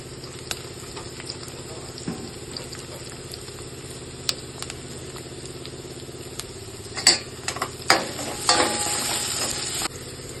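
Garlic and spices tempering in oil in a pan crackle and sizzle, bursting louder near the end as something is tossed in, with faint stirring clinks throughout.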